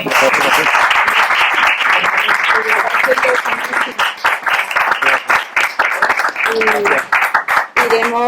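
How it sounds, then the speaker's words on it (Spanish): An audience claps at the close of a round-table talk on the archaeology of gastronomy, with dense, loud applause thinning into scattered claps as voices talk over it. "un aplauso, por favor"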